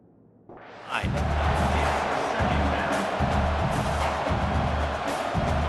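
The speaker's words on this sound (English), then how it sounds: "This crowd, full throat, splitting the eardrums and letting them know it's going to be a long day." Stadium crowd cheering in EA Sports College Football 26, surging in after a brief quiet moment and then holding as a loud, full, continuous roar with rhythmic low thumps underneath.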